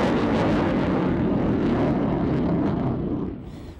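An F-15 Eagle jet makes a low, slow demonstration pass, a loud, broad roaring rush of engine noise that holds steady and then fades toward the end.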